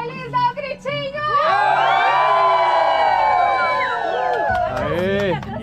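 A crowd at a Curitiba pedal-car event, Pedaloucos, cheers and shouts together in a loud, sustained burst of overlapping high voices and whoops, briefly dropping before rising again.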